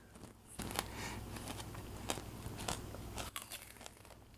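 A crunchy apple treat is bitten and chewed near the mic, several sharp crisp cracks and crackles over a low rumble of handling, with no talking.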